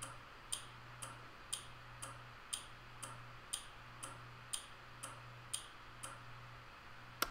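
A relay driven by a Raspberry Pi clicks on and off in a steady, even rhythm, about a dozen sharp, faint clicks at roughly half-second intervals over a low hum.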